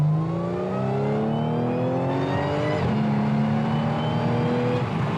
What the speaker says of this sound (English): It revs out what it seems to me like a lot easier.